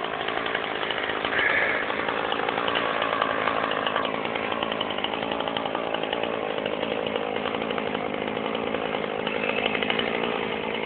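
A small Husqvarna chainsaw cuts branches clearing a roof, its engine whining loud and steady for the whole stretch with no break and no talking.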